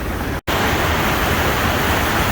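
A river rushes loudly through a rocky gorge near Girdwood, Alaska, a close, dense, continuous roar of water, broken only by a split-second dropout near the start, with no voices.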